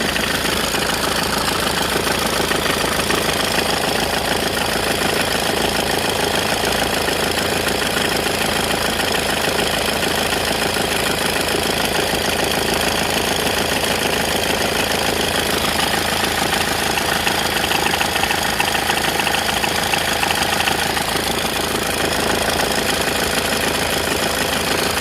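A Peugeot 206 2.0 HDi diesel engine idles steadily after an oil and filter change, a loud, continuous knocking rumble that stays level and close throughout with no talking.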